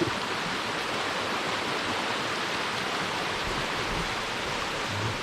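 A steady wash of water from waterfalls and a stream in Ketchum Run Gorge, Loyalsock State Forest, sounds dense and constant up close, with no break and no voices.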